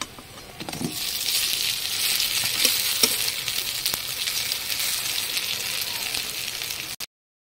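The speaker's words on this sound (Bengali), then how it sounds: "বড়াগুলো এক পিঠ হয়ে গেছে, এই পিঠটাও উল্টে দেবো।" Lentil fritters, made from two kinds of dal, sizzle in hot oil at close range, a steady bubbling crackle with a few soft clinks as they are turned over.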